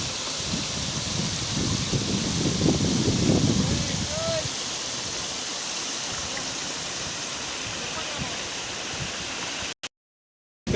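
Water at the Amboli waterfall rushes in a steady broadband wash heard from nearby, with a brief rustling burst early on and the sound cutting out near the end.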